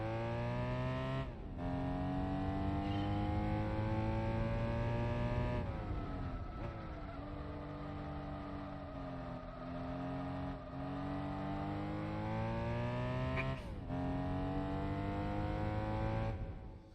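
A BMW's engine drones steadily on the Motegi circuit in Gran Turismo 4, its pitch sliding up and down as the car accelerates and shifts gears. Sharp dips mark gear changes along the way.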